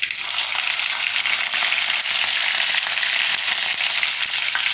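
Mustard seeds, cumin and green chilies fry in hot oil with a loud, dense, continuous crackling sizzle heard right up close and with no one talking, running evenly from start to end.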